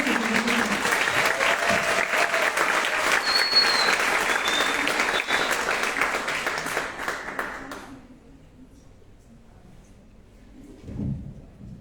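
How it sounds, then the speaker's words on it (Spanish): Sustained applause from an audience at a talk for about eight seconds, then it fades out, leaving a quiet room with a brief thump near the end. "vamos a darles un fuerte aplauso nuevamente"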